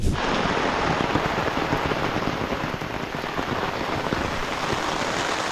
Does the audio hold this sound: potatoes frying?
no